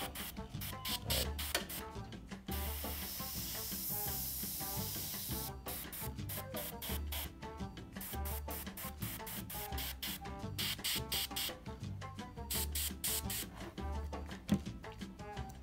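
Mission Models acrylic paint sprayed in repeated hissing bursts, each lasting a second or two with brief pauses between them, close and fairly loud.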